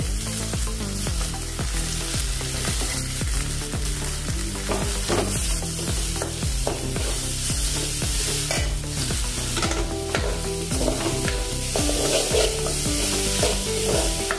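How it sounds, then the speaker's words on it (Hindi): Masala paste and softened onions frying and being stirred in a pan for a palak matar sabji, a steady loud sizzle with scraping stir strokes, close up beneath continuous background music. "थोड़ी देर इसको भुनेंगे"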